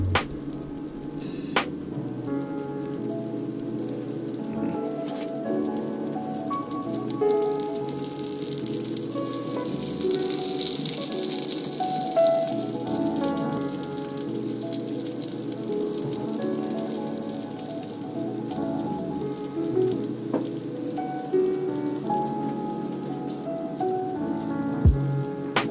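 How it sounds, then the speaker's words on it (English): Waffle batter sizzles and crackles steadily in a hot waffle iron, a soft, continuous frying hiss with occasional small pops. "since you got your waffle iron all warmed up and ready, this is when you put your mix in there."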